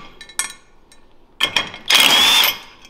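A powerful bit driver fastens parts of DIY cross kart brakes on a YZ450-powered buggy build: two short mechanical bursts, then a longer, louder high-pitched whirring run, close to the mic, with no one speaking.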